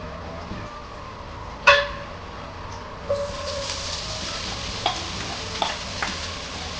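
Onions sautéing in hot avocado oil for a seafood jambalaya, a steady light sizzle punctuated by a sharp utensil clank and several soft stirring scrapes, close and without talk.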